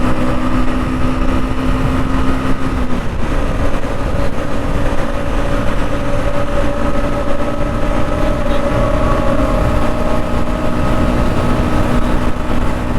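A Bajaj Pulsar NS200 motorcycle holds high speed, around 110 km/h, with a steady loud engine drone and rushing wind noise filling the whole stretch, with no voices.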